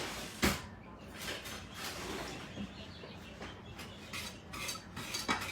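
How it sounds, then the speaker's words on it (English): A whisk beats a strawberry dessert mixture in a bowl, giving quick, irregular metallic clicks and scrapes at moderate volume, with a few sharper taps standing out. "We're going to give it a good whisk."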